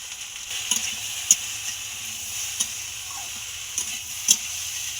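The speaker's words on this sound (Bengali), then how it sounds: "এবার সুন্দরভাবে আমি ভেজে নেব" Okra with turmeric powder and salt fries in a pan, a quiet steady sizzle with a few sharp clinks and taps of a utensil stirring against the pan.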